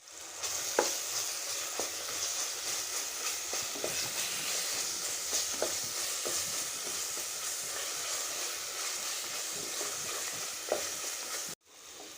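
Ginger and garlic fry in a mix of oil and ghee for chicken biryani, giving a steady close sizzle with occasional stirring clicks. The sound cuts off abruptly near the end.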